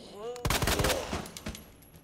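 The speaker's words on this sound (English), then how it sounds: "Here's your gunfire." A rapid burst of gunfire in the survival horror game Resident Evil 2 Remake, several close, loud shots fired in quick succession and then trailing off, with a brief voice fragment just before.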